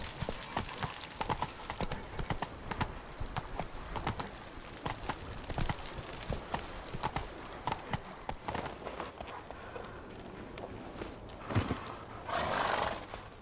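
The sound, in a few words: horse Roach galloping in video game Witcher 3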